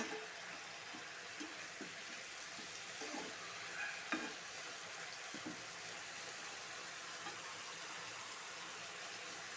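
A quiet, steady sizzle of beans frying in a pan, with a handful of soft scraping and clinking stirs near the start.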